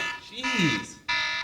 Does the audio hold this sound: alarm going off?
yes